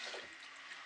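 A small splash and trickle of water spilling from a cat water fountain refill bottle as it is flipped upside down and screwed in, brief and close.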